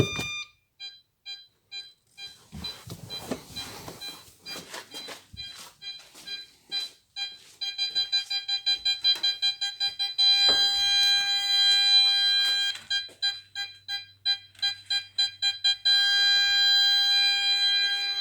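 Parking sensor buzzer on a SEAT Altea XL sounding in a garage, a near, shrill electronic beep that starts in spaced pulses, then speeds into rapid repeated tones and a near-continuous whine, with some clattering early on.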